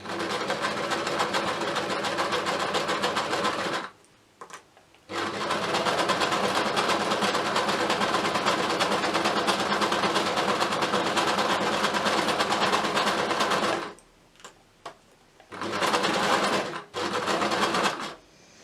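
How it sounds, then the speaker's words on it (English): A sewing machine zigzag-stitches around the brim of a fabric hat in loud, fast mechanical runs. Two short pauses break the runs before the machine restarts in brief bursts. "Just going to zigzag around this, again using that centre bar just to hold the stitches even."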